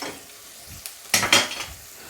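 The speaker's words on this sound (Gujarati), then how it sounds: "આ ડુંગળી થોડીક સતળી જાય એટલે એમાં કટિંગ કરેલું લસણ છે, કટિંગ કરેલું આદુ અને લાલ મરચાં છે, એને પણ આપણે સાથે નાખી દઈશું" Onion frying in a pan with chopped garlic, ginger and red chili for Kathiyawadi khichdi, soft sizzling broken by a few sharp scraping stirs at close range.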